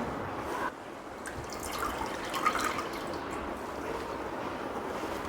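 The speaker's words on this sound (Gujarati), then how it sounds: "વધારે એક પાણીથી બટેટાનું છીણ ધોઈ લેશું।" Grated potato being rinsed in a bowl of water, with steady close sloshing, dripping and trickling throughout and no voices.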